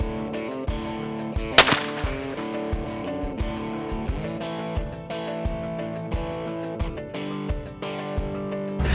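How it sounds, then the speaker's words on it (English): One sharp, loud rifle shot at a whitetail doe during a West Texas hunt cracks out over steady rhythmic background music. "It only took one quick, clean shot to this doe to bring her to the ground."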